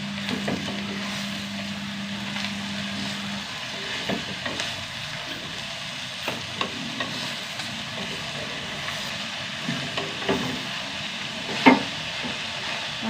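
Greens sautéing in a pan for a Kerala-style dish give a low continuous sizzle, broken by occasional soft scrapes and taps of a spoon stirring, with a faint steady hum early on.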